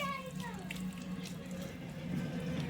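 Water runs steadily from a tap as people wash their hands at an outdoor village faucet near paddy fields, a continuous close splashing stream with a voice speaking over it.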